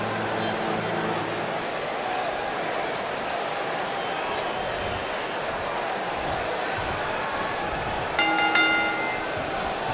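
A wrestling crowd in an arena roars and cheers steadily for a wrestler, a dense continuous wall of noise with a brief brighter burst near the end.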